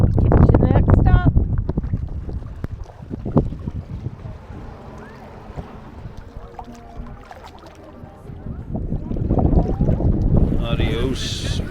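Strong wind buffets a boat on Bacalar's waters, loud gusts roaring across the microphone at the start and end with a calmer stretch between, while people talk over the blustery noise.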